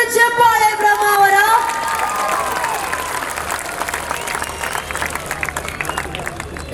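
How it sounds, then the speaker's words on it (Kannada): A large crowd bursts into loud applause and cheering for actor Rishab Shetty at an outdoor event in Kundapura, with the clapping continuing steadily. Music fades out early on. "ಕೇಳಿಸ್ತಲ್ಲ ಚಪ್ಪಾಳೆ"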